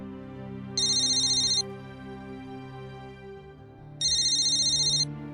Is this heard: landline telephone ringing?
yes